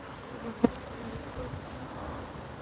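A hive full of honey bees buzzes in a steady, close drone throughout, with one brief sharp knock early on and no voices.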